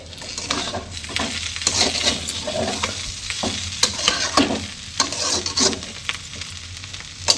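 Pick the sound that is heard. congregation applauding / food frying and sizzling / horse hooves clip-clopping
food frying and sizzling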